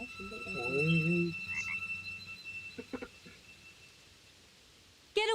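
A frog croaks in a short burst of raspy, pulsing calls up close, followed by scattered faint clicks and a quiet stretch, ending with a sudden loud noise.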